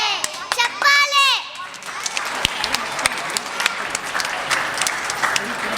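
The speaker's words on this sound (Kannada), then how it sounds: "ಚಪ್ಪಾಳೆ." An audience claps at a children's Kannada school annual day event in Ottawa, giving steady applause throughout. A voice speaks briefly near the start, and a voice is heard.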